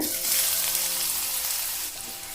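Finely chopped onion frying in about two tablespoons of hot oil, a steady close sizzle with broadband crackle throughout, no talking over it.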